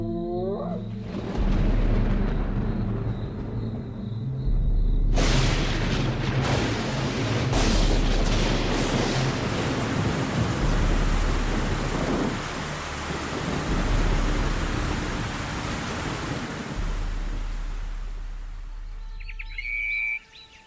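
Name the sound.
thunder rumbling over the savanna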